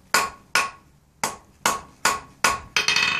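A blacksmith hammers a short taper on a metal bar, striking seven sharp ringing blows at a steady rhythm, with the last strikes coming quicker, loud and close with no talking.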